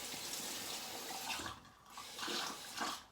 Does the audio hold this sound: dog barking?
no